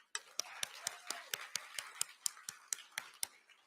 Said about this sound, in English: Give God one more hand clap.